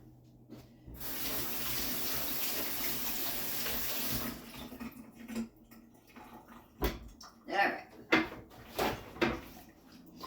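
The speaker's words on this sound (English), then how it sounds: "I'm just going to turn my back and rinse them off real quick." Campari tomatoes are rinsed under a running kitchen tap, a steady close splash of water that stops after a few seconds, followed by scattered clinks and handling knocks.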